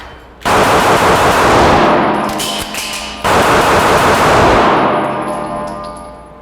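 Handgun shots in a double bill shooting drill ring out as two very loud, close bursts of rapid fire about three seconds apart, each with a ringing tail.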